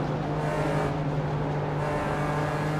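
BMW race car engine in the iRacing sim, a steady loud drone holding a constant pitch as the car runs down the main straight toward another lap, with no voices over it.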